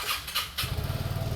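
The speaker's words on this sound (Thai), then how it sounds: "สตาร์ทเครื่องยนต์" A Vespa Sprint 150 scooter's original factory engine cranks and catches, settling into a low, putting idle after a brief starter whir.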